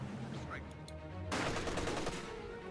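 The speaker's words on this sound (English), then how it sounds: "the stolen MG34 moves up, providing some support, getting shots on the stolen Maxim" Bursts of MG34 machine gun fire in the strategy game Company of Heroes 2, a dense rattling volley starting abruptly partway through over ongoing battle ambience.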